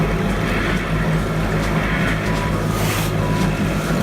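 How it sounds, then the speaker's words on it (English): Sailboat motoring under engine power at night in no wind, between Lisbon and Gibraltar: a constant loud low engine drone mixed with rushing water and hull wash, steady throughout with no talking. "So we have no wind right now, so we're motoring again."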